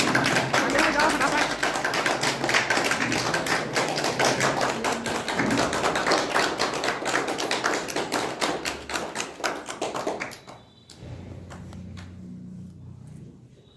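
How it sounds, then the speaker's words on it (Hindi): A group of people clapping hands at a farewell gathering, with dense, steady applause for about ten seconds that then stops, while voices talk over and after it. "ताली बजाओ"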